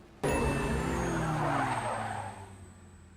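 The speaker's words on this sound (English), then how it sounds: "Wait, his car's still running?" A street-racing car from a film scene, a loud sudden onset of engine roar with tire screech that holds steady for about two seconds and then fades, heard alone with no talk.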